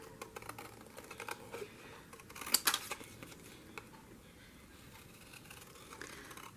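Paper being cut with scissors for a junk journal: soft, faint snips and rustles, with a small cluster of louder crisp cuts in the middle, set against quiet room noise.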